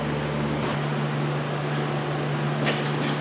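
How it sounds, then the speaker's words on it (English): A home furnace runs in the background as a steady broadband whoosh with a low hum, faint and unbroken throughout, with no voices. "so I got the furnace on, obviously."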